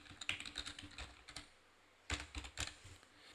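Text is typed on a computer keyboard in two quick bursts of close, crisp key clicks separated by a short pause, with no talking.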